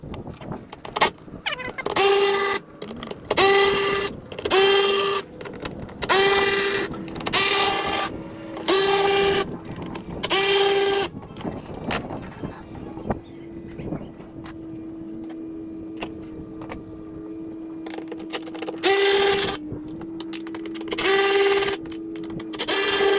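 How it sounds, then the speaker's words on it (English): Hand ratchet loosening the 8mm six-point bolts on a Ram TRX air filter housing, heard as repeated bursts of fast clicking separated by short pauses, close and fairly loud, with a quieter stretch midway before the clicking resumes. "Looks like it's a series of 8mm 6-point bolts there, so we're going to go ahead and remove those."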